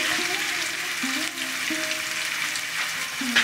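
Vegetables, including eggplant, fry with onions in a pan for sambar dal, giving a steady close sizzle with occasional stirring and short squeaky tones.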